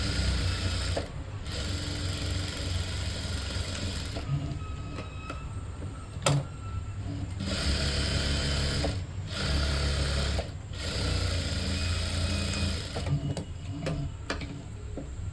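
A sewing machine stitching the side seam of a blouse, running in steady whirring bursts separated by short stops, with a soft rhythmic mechanical clatter close by and no talking.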